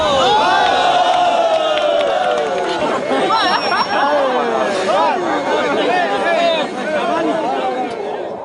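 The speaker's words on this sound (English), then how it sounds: "round of applause" Crowd at a Su-27 air show cheering and whooping, a loud mass of excited voices and shouts with chatter throughout and little distinct clapping.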